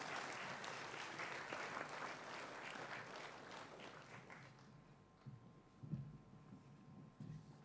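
A school hall audience gives a round of applause for Year 8 Gold Level award recipients at a high school awards night. The clapping is steady and moderate for about four seconds, then fades out into faint room noise and a few stray thumps.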